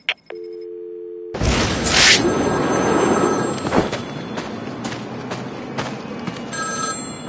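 A payphone rings in Batman Arkham City, with a short tone at first, then loud bursts of bell-like ringing over a busy game ambience and sharp hits.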